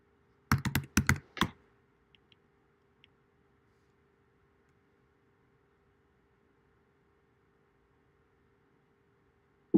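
A short burst of computer keyboard typing as a MySQL command is entered on a Mac, a quick cluster of close keystrokes followed by a few isolated clicks, then near silence.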